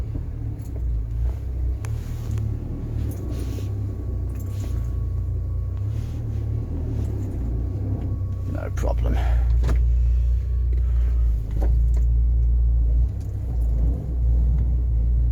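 Rover 45 hatchback with sticking brakes pulling away, a low engine rumble building as it drives off, with brief talk and some clicks and rattles inside the cabin.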